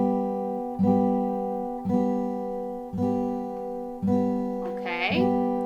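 Guitar strummed on the bottom three strings during a beginner lesson, about five steady strums ringing out one after another, close and moderately loud with a faint squeak near the end.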